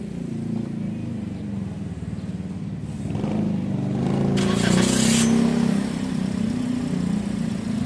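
A Toyota Vios car engine runs with a low, steady rumble, revving up briefly midway before settling back to a constant idle.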